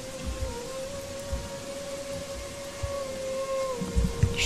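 Steady rain falls in the Gothic 3 video game, a continuous soft hiss with a sustained tonal hum running through it and scattered low thumps, with no talking.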